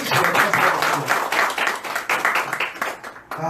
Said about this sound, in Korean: 박수 한번 쳐주시면 감사하겠습니다.